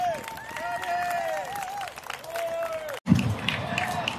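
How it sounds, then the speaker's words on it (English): A rally crowd at a MAGA event at the Fieldstone Center applauds and cheers a comedian, with voices calling out over steady clapping and a louder burst of crowd noise near the end. "let's give a round of applause for Scott Muschett as he is your Senate comedian"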